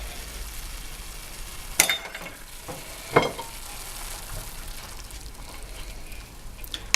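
Green onions and sage frying in a pan, a steady close sizzle with two sharp utensil clinks near the second and third seconds, no voices.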